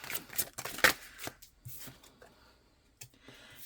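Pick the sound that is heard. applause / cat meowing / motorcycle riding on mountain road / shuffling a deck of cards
shuffling a deck of cards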